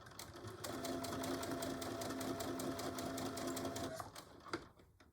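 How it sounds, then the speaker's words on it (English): A sewing machine back-stitching a Betty Boop pillow cover, its motor whirring in a fast, even needle rhythm for about three seconds before stopping, followed by a small clunk. "Let's do back stitching."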